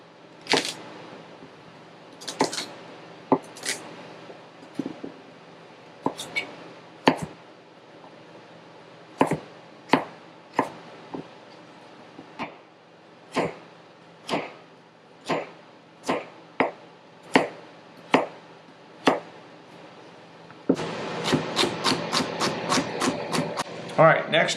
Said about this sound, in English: we're going to go ahead and just start chopping up all this stuff a certain way